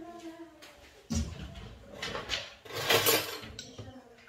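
A small plate is taken from among dishes in a home kitchen, giving a few soft clinks and clatters of crockery and cutlery, quiet and close, with no speech.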